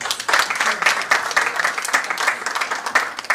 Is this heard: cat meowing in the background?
no